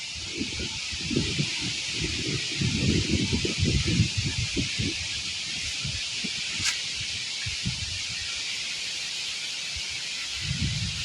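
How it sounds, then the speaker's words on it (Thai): Strong wind roars and buffets the microphone in heavy low rumbling gusts, with a constant rushing hiss throughout and no voices. "ลมแรงนะครับ"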